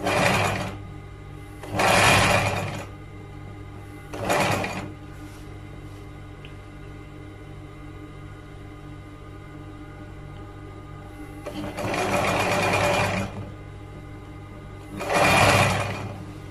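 Sewing machine stitching the seams of an A-line jubah, running in four separate loud bursts of steady whirring with quiet pauses between them.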